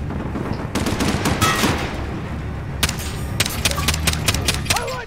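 Bursts of automatic machine gun fire in a military first-person shooter game, loud and close, with rapid clustered shots in several volleys and other gunfire around them.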